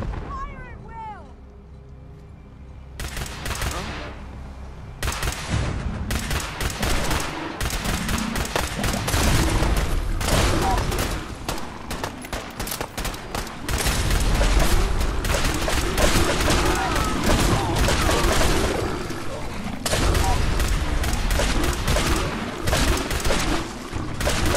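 Dense, continuous gunfire and heavy blasts from a battle in Fallout 4: Far Harbor, with rapid overlapping shots and booms filling the scene and voices shouting amid the din.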